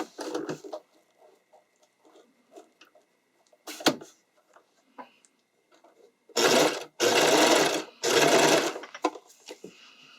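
A sewing machine stitches a strap for a strappy underwire bikini top through the lining edge, running in several short whirring bursts between quieter fabric handling and clicks.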